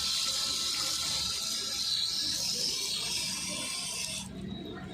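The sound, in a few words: washing hands and feet with water at temple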